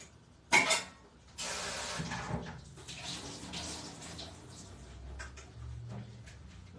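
Canned food being rinsed under a running tap, starting with a sharp clatter and then a steady rush of water splashing into a sink.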